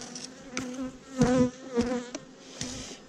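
Honeybees buzzing close up on a beehive frame, several overlapping wingbeat drones rising and falling in short passes.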